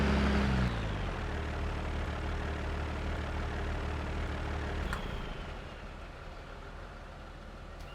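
A tractor engine left idling in the farming game Cattle and Crops, a steady low mechanical drone that starts loud with a deeper rumble, then holds an even hum and drops somewhat quieter after about five seconds.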